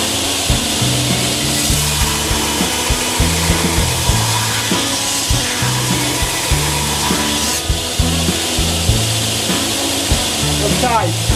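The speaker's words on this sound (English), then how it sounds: "It means we're grinding evenly here." A grinder works steadily on the bevels of a handmade knife blade, a loud, continuous abrasive whine and rasp with small rhythmic dips as the blade is passed over the belt, close up and with no talking.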